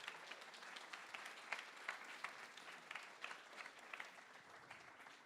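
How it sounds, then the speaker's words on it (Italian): An audience at a Speck&Tech tech meetup claps steadily in warm applause welcoming the speakers. The clapping is dense and fairly quiet, with a few sharper claps standing out and no voices over it. "A warm applause."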